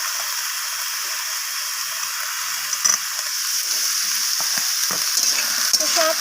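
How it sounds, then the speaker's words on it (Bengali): Cut potatoes and kohlrabi fry in a hot pan with a steady, loud sizzle, broken by several scraping stir strokes near the end. "তো সব কিছু একসাথে এইভাবে নাড়াচাড়া করে আমি একটু ভাজা করে নিচ্ছি।"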